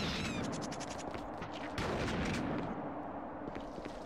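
Shotgun fire in The Thing video game, dense crackling blasts layered over a loud, busy game soundscape with no clear single report, continuing throughout.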